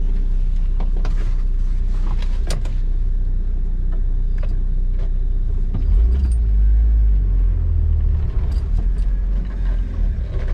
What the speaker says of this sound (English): we're taking a ride with the new shocks in